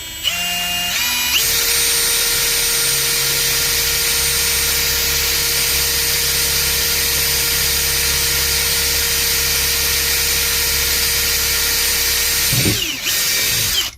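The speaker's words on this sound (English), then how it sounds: "we're going to take our drill, put it on reverse" A power drill runs in reverse, pressed lightly against a plastic monotub. Its high motor whine holds steady for about twelve seconds after a brief start-up, then winds down abruptly, with no talking.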